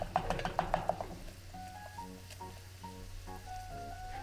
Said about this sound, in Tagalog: Haluin lang natin ito mabuti. Hanggang sa totally madilute na yung harina dito sa butter.